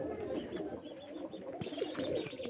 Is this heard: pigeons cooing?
yes